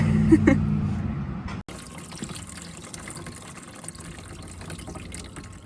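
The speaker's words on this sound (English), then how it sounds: "So I wedged a flathead in there, and I'm starting to drain some coolant." Coolant drains from a crusty original radiator hose pried loose with a flathead screwdriver, giving a steady close trickling and splashing stream that continues throughout.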